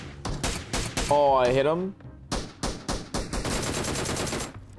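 A Mini 14 rifle fires in the mobile battle royale game PUBG Mobile, a rapid series of sharp cracks in two bursts with a short pause between, while someone speaks briefly over the shots.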